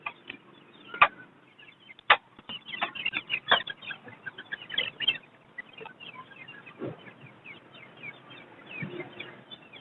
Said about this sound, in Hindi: और ये मुर्गा है जावा नस्ल का, मियाँ वाली नस्ल का